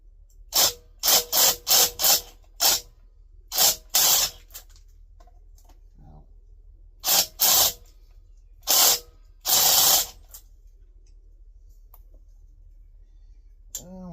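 A ratchet wrench with a 10mm socket removing old bolts, giving loud close bursts of rapid clicking in uneven clusters separated by quiet gaps.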